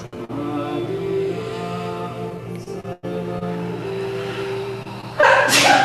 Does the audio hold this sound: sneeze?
yes